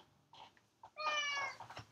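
A house cat gives one clear, drawn-out meow close by indoors, preceded by a couple of softer chirps and followed by faint rustling.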